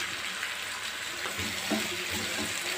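Garlic cloves and curry leaves fry in hot oil in a pan for a kovakkai puli kulambu, giving a steady, close, bubbling sizzle throughout.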